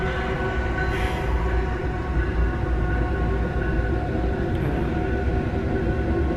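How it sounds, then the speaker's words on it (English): A train rolls past close by, a loud continuous rumble and clatter of railcars filling the whole stretch without a break, no voices heard. "this train runs every 5 seconds, every single day."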